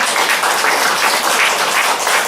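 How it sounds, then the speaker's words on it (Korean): A church congregation applauding during a Sunday worship service, dense sustained clapping from many hands filling the room evenly for a couple of seconds. "하나님 앞에 영광의 박수를 드리겠습니다."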